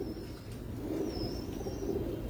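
Pigeons coo in soft, low rolling calls, several birds together at close range with a thin higher chirp drifting above, steady and unhurried.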